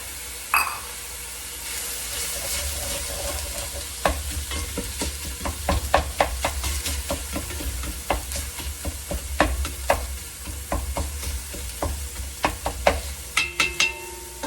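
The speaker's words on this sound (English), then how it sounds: "We're just going to brown this. I'm going to go ahead and also put in the onions." Ground meat and about a cup of onions browning in a pan on a home stove, a steady sizzle broken by frequent scraping and clinking stirs from a utensil, with no talking.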